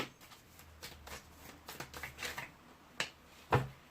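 Tarot cards being shuffled by hand during a reading, a run of soft riffling and flicking bursts with a couple of sharper card snaps near the end, quiet and close.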